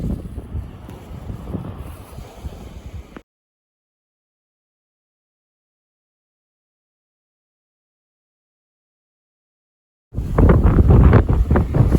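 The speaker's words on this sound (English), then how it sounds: "as you can see with the wind picking up, the tide is not going out." Strong wind buffets the microphone on a beach at low tide, loud and rough for a few seconds, then cuts to silence before the gusts return even harder.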